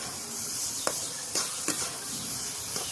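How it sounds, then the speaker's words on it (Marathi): Ghee added to a pan of sweet raw papaya sizzles with a steady, close hiss, punctuated by a few soft scraping stirs. "आता हे जे तूप आहे मी ते तूप टाकते याच्यामध्ये"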